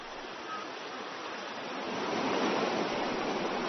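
A full-flowing village stream near the headwaters of the Qiantang River rushes with a steady broadband wash, loud and continuous, swelling slightly toward the end with no voices.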